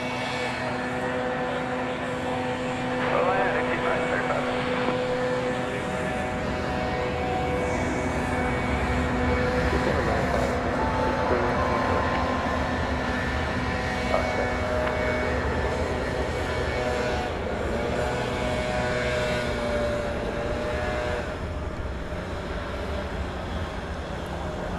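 An American Airlines Boeing 737-800 takes off from runway 18 left at DFW Airport, bound for Kansas City. Its engines give a steady, sustained roar at middle distance that barely changes in level for about twenty-five seconds, with no voices.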